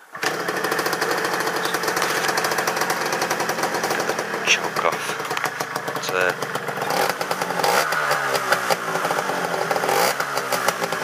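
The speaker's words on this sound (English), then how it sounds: "nice quiet engine on this." A Yamaha RXS100 motorcycle engine idles and runs steadily up close, a continuous loud rumble with a slight shift in pitch partway through.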